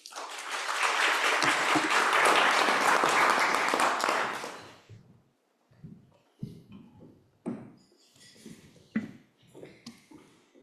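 Audience applause welcoming Frank Siller, CEO and chairman of the Tunnel to Towers Foundation, to the stage; loud, dense clapping for about four seconds, then fading into scattered sounds and brief bits of talk.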